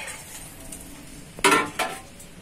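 Glass jars of menemen being filled and capped in a home kitchen: a quiet stretch, then two sharp clinks and clatters of glass and metal lids close by.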